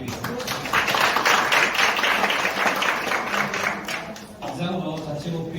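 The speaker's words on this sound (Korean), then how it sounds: "다시 한번 감사의 박수 부탁드리겠습니다" Applause from the audience after a lecture at a city council session in Gumi, Korea: a burst of many hands clapping, loud and fairly close, easing slightly near the end as a voice begins to speak.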